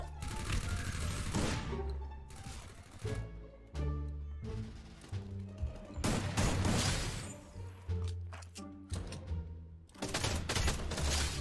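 Rapid gunfire from a FAMAS rifle in the Free Fire video game, loud bursts and single shots repeating throughout over a dense, pounding backing music bed.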